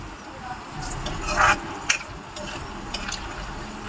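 Almonds and cashews roast in a pan for makhana kheer, giving a soft, steady sizzle with a few scraping stirs of a spoon. It stays quiet and close, and no one speaks.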